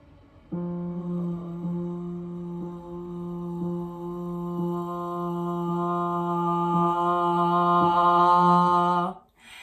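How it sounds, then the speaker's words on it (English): A single sung note held steadily for several seconds, gradually swelling louder before cutting off. "We're going to hold a note for 8 beats, and we're going to create a crescendo."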